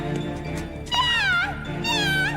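A cartoon cat lets out two drawn-out, wavering meows, loud and close, over a soft background bed with no speech.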